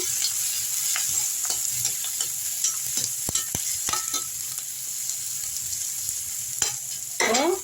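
Steady sizzling of spleen with curry leaves being sautéed in a hot pan, with scattered clicks and scrapes of stirring throughout; no voices.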